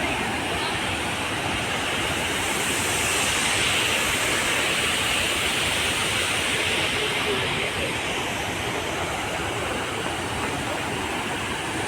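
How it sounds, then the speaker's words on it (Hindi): A river waterfall pours in a constant loud broadband roar of rushing water, steady and close throughout. "वाटरफॉल लग रहा है ये।"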